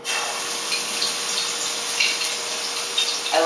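Garlic hits a hot pan for tuna bruschetta, giving a continuous bright sizzle and crackle, close and fairly loud, with small spits and pops along the way.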